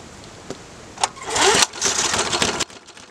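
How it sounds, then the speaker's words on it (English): A Rover Series 200 PowerMaster motor mower with a Briggs and Stratton engine sputters into life in uneven bursts, its loud, rough roar surging and then cutting out near the end. "This is my Rover Series 200 PowerMaster Briggs and Stratton motor mower."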